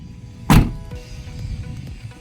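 A power window motor whirs briefly on a surplus Isuzu 4x4 truck with a 4HG1 engine, a short loud burst near the start followed by low idling rumble and faint background noise.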